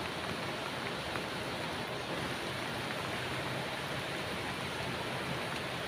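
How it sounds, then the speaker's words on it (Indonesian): Rain falls over a sheep field as it eases off, a soft, steady, faint hiss with no distinct drops or voices. "Jadi ini masih posisi hujan tetapi tidak sederas tadi ya"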